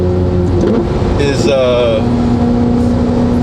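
A modified Ferrari F8 Tributo with new wheels, a tuned exhaust and engine tune, heard as a loud, steady engine drone from inside the car while people talk over it.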